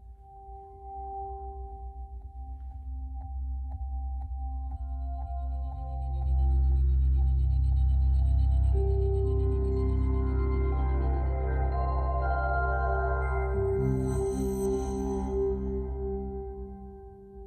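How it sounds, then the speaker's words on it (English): Amazon Echo Studio smart speaker plays a sequence of synthetic tuning tones to match room acoustics, sustained hums and rising chime-like notes swelling louder midway then fading, with no talking. "Just a moment while I tune your echo to match the acoustics of this room."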